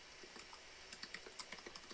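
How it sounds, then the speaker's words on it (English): Quiet keyboard typing by a person named Russell, a steady stream of soft, irregular keystroke clicks with brief pauses, close and alone with no talk. "I just hear Russell typing"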